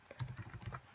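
Quick burst of keystrokes on a computer keyboard while opening the PuTTY SSH client, several close, crisp taps in uneven rhythm with no voice.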